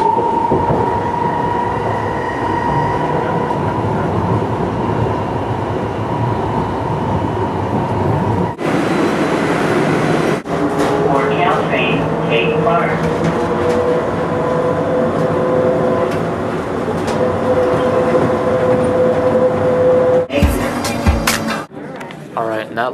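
Train interior ride near San Francisco airport: a steady rumbling roar of wheels on rails, with a door or transition noise, squealing brakes and a pitched tone as it slows, ending in clatter and movement.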